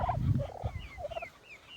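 Purebred turkeys gobbling in a farmyard pen, a quick rattling burst of gobbles close by with a few fainter rising calls from other birds behind.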